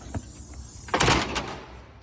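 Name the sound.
door being closed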